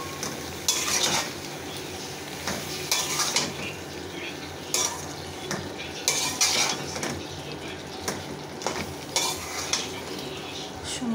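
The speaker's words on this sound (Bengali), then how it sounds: "সুন্দরভাবে কষে তারপর পানি দেব।" A spoon scrapes and stirs drumstick and eggplant curry in a pan, with repeated clattering strokes over a soft background sizzle and no talking.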